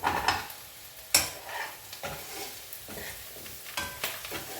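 Tempering spices sizzling in hot oil for a sweet potato curry, with a soft frying hiss under repeated scraping stir strokes and a few sharp clinks of a spoon against the pan.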